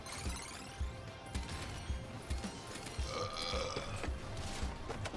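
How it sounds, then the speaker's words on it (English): A video game character lets out a loud, low burp amid busy game noise, with repeated thumps and mechanical clatter continuing throughout. "Big burp and off you go."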